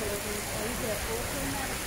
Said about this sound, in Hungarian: van eső, nem kevés